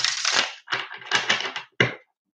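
A deck of Gilded Royale tarot cards is shuffled up close in a few quick riffling bursts. The short papery rushes stop and start, and a final sharp snap ends them.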